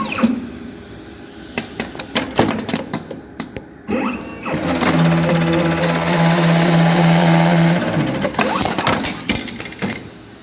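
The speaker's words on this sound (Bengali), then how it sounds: "আমি এখন মেশিনটা চালিয়ে দেখাচ্ছি।" A JUKI APW 896N automatic welting machine runs for a pocket welting job, giving a loud steady mechanical drone with tonal hum for several seconds, framed by clattering clicks and knocks before and after.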